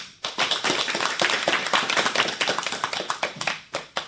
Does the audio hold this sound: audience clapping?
yes